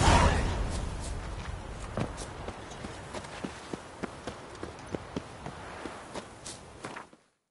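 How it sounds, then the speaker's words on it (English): Horse hooves clop in a regular sequence of sharp knocks, moderately close, after a loud burst at the start, then the sound cuts off to silence. "Look at that horse."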